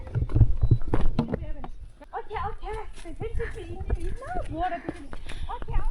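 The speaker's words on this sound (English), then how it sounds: "there are some horse and donkey" Horses and donkeys in an outdoor village setting, hooves clip-clopping irregularly near the start under ongoing chatter from several people.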